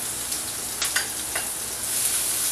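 Butter, onions and peppers fry in a pan with a steady close sizzle, broken by a few brief louder crackles and stirring scrapes, with no talking.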